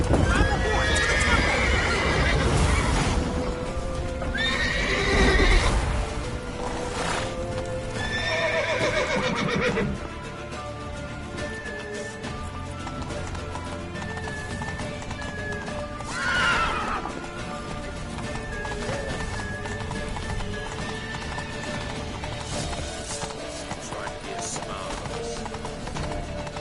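Horses in the video game Witcher 3 whinny sharply several times over steady hoof clatter, loud and close at first, then a quieter stretch with another neigh midway and game ambience beneath.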